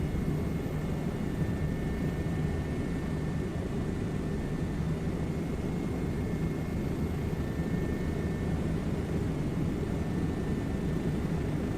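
A helicopter flies in a flight simulator game, a constant, even engine and rotor drone holding at moderate level throughout with no voices.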